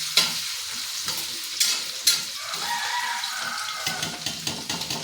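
Ginger and green chilies roasting in a pan, with a soft continuous sizzle and a few sharp stirring scrapes near the start and end, close by with no voices.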